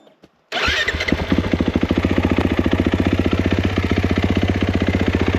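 A 2021 Kawasaki KX450 dirt bike engine fires up after a brief pause, then settles into a loud, close, rapid rhythmic idle with steady popping pulses that run to the end.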